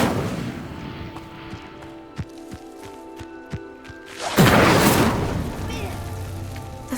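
In Hogwarts Legacy, a fire spell sets a pyre alight with a loud whooshing burst of roaring flame, preceded by tonal magical chimes and sharp impacts.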